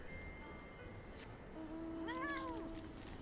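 The Fat Cat mount in Final Fantasy XIV gives a single drawn-out, rising and falling meow, faint and alone over a low game background hum.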